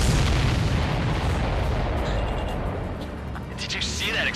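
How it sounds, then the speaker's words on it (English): Missile striking a supply ship in the video game Ace Combat 7, a loud explosive burst and rumbling boom that fades while radio chatter plays over it. "Did you see that explosion?"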